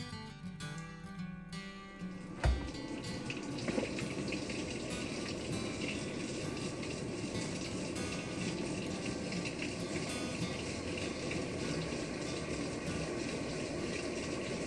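A washing machine set to its hottest rinse starts with a click and a thump, then water rushes in steadily and fills the drum with a constant churning hiss.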